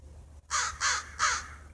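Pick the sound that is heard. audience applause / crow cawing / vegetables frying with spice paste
crow cawing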